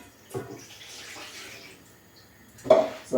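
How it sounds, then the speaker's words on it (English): Water pours and splashes into a bowl of curry seasoning, a soft running wash that swells at the start and again near the end, close and fairly quiet with no talk. "I'm going to put some water into it."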